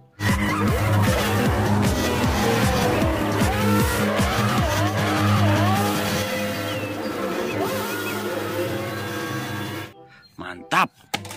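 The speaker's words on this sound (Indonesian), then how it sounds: "Wih, mobil balap." A race car drives hard with loud tire squeal and skidding, wavering screeches over a steady engine roar for about ten seconds before cutting off abruptly.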